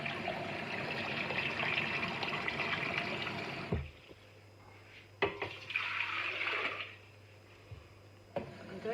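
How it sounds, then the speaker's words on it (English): Water splashing and swirling as a water distiller jug is rinsed, a loud rushing pour that stops, then shorter bursts of sloshing with quiet pauses between. "I'm actually going to rinse the jug out a little bit before I fill the machine back up"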